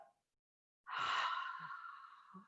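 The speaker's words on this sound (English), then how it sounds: "Big exhale out." One big, breathy exhale during a guided breathing class: a sudden, airy sigh that starts sharply and trails off over about a second and a half, close and fairly quiet, with no talk.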